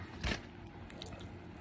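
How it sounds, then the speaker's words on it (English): A single crunchy bite into a slice of butter bread at a Dairy Queen meal, a short close burst with low background noise around it. "I'm gonna have to take a little bite."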